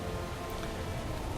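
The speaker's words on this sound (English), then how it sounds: "rain coming down may not be a good thing" Rain falls in World of Warcraft as a steady, even hiss of dense drops, brief and unbroken.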